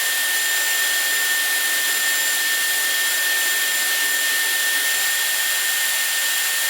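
A Dyson Airwrap hair styler blows a steady, loud airflow hiss with a faint high whine, running unbroken and close throughout while shorter, lob-length hair is styled, with no talking.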